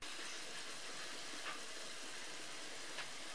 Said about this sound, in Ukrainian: на розігріти сковороду з олією кидаємо нашу порізану цибулю і починаємо смажити до легкої прозорості кусочків